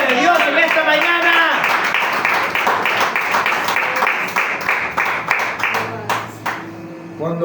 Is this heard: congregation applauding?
yes